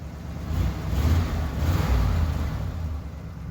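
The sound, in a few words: 1982 Ford LTD 351 Windsor V8 engine revving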